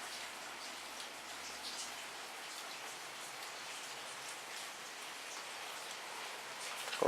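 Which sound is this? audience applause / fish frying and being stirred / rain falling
rain falling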